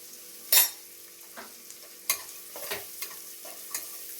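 Shallots and onions sauté in a pan with a soft, continuous sizzle. Several sharp scrapes and clatters of a stirring spoon cut in, the loudest one near the start and smaller ones after it.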